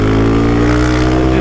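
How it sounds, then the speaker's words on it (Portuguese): Honda Today scooter-style motorcycle engine running hard, a steady close buzzing drone with strong low harmonics that holds loud and even throughout. "É bizarro o jeito que a moto dispara."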